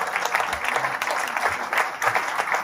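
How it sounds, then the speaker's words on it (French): An audience at a mayor's New Year ceremony in Nozay claps steadily, with moderately loud applause that fills the room throughout. "On peut l'applaudir."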